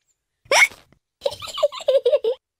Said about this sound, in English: George's hiccups are spoiling the game